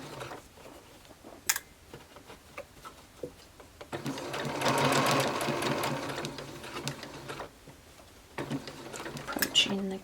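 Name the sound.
sewing machine stitching a shirtwaist over gathering stitches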